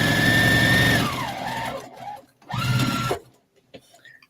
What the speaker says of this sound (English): We'll just sew.